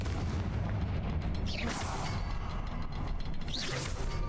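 A Confringo fire spell explosion in the Hogwarts Legacy video game, a loud, dense roaring blast with whooshing sweeps that fills the clip without pause.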